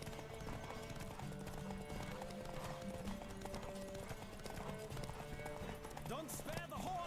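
Rhythmic clip-clop of galloping horse hooves in The Witcher 3 video game runs steadily beneath talking voices, with a brief horse whinny near the end.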